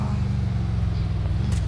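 A Lamborghini car engine in a video game, a steady close low-pitched drone from the motor running throughout, with no talk over it.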